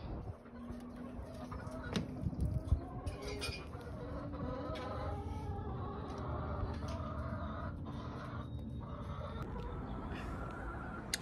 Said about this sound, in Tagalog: See my chicken?